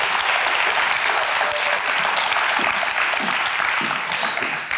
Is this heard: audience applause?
yes